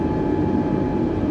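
Steady airplane engine drone from a flight simulator game, a constant low roar with a broad rumbling body and no voices over it.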